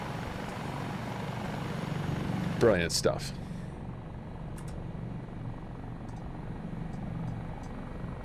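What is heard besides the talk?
helicopters flying in Microsoft Flight Simulator video game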